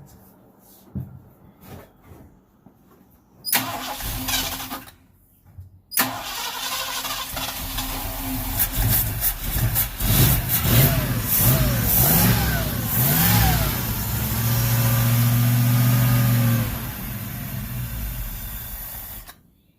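An old Ford Ranchero engine sputters through several attempts before catching, then runs roughly and revs up and down in repeated surges before settling into a steadier, louder idle close by.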